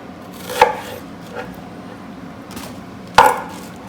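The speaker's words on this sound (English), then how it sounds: "I have to chop this up very quickly and move on to the next thing from here" Knife chops vegetables for beef stew on a cutting board, two sharp close thwacks with a few softer cuts between, no talking.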